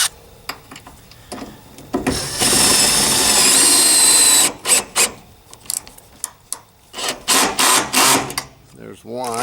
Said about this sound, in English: So let's go ahead and put these screws down in right here.